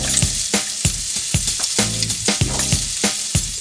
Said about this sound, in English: we're going to go ahead and toss in our shallots